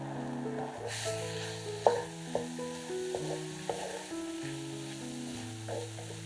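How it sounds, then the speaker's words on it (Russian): Mushrooms fry over high heat in a hot, dry pan with a soft, steady sizzle and the odd stirring knock, mostly under light background music. "На горячую сухую сковороду кладем подготовленные грибы. Готовим их на большом огне,"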